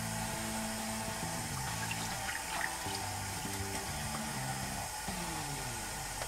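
Cold water runs steadily from a tap, a continuous close hiss and splash that stays even throughout.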